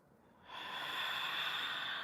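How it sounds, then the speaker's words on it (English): A deep inhaled breath during a yoga stretch, starting quietly and swelling into a steady, close airy rush that holds for over a second. "Breathe in."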